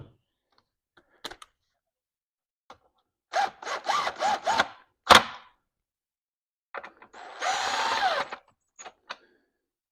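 A power tool runs down bolts on a 10L80 transmission during a 4wd to 2wd conversion, short whirring bursts with pauses between them, close and fairly loud, with small metallic clicks and clunks in the gaps.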